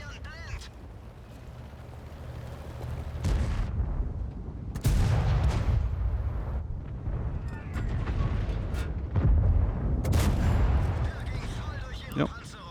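Tank guns in World of Tanks boom a few times, heavy blasts cutting through a steady low rumble of engine and battlefield noise, with talk throughout; one of the guns is damaged.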